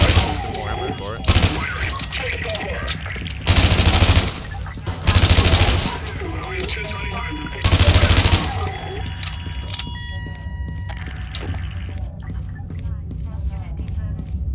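SMG fire in The Division: several loud, rapid bursts of automatic gunfire a second or so each, spaced apart over steady game background noise, with a voice talking throughout.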